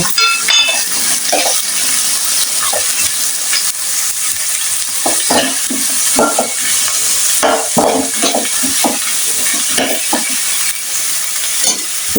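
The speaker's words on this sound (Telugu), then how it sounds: "కొంచెం బ్రౌన్ కలర్ వచ్చే వరకు వేగాలి." Onions and dried prawns frying in a pan while being stirred: a steady loud sizzle runs throughout, with frequent scraping and clattering strokes of a spatula close by.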